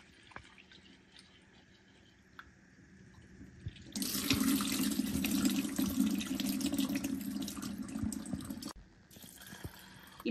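Water runs from a tap into a bowl of toor dal lentils being washed, a steady splashing gush for about five seconds. Quieter handling and drips come before and after.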